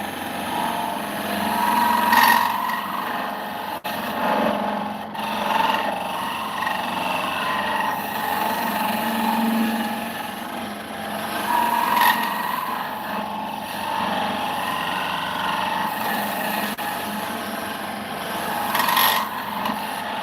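Wood being turned on a lathe with a skew chisel, a steady scraping, rasping cut that runs the whole time at close range and swells briefly every few seconds, with no talking.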